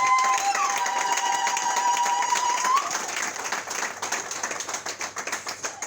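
A church crowd of singles cheers and applauds, with a loud whoop over the clapping early on, then the clapping thins into scattered, rhythmic claps.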